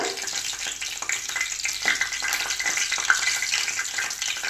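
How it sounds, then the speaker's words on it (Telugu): Curry leaves frying in hot oil for chicken fry: a continuous close crackling sizzle with light stirring noises, steady and fairly loud throughout. "సో వన్స్ మన కర్రీ లీవ్స్ కొంచెం వేగిన తర్వాత"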